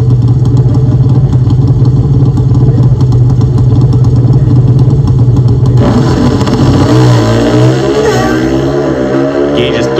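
Pro Stock drag racing motorcycles at the NHRA Northwest Nationals, Pacific Raceways, idling loudly then launching into a high-revving run with rising engine pitch, sustained and close throughout.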